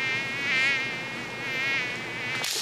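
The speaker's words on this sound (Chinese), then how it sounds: "蚊子" A mosquito's thin, high whine drones on steadily, swelling and fading as it circles close by, with no other sound under it.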